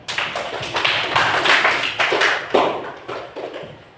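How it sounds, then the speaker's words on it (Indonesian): A classroom of students claps in uneven bursts, the crisp slaps rising and falling in loose waves close by before tapering off. "Tepuk tangan buat teman kalian."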